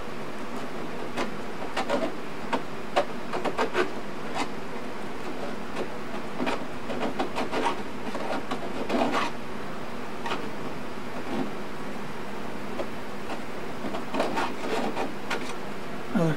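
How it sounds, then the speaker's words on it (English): Sandpaper rubbed against a small part of an Ohio-class model submarine's launcher tubes, a series of close, dry scraping strokes in uneven bursts with no talk. "Another couple of licks of the sandpaper."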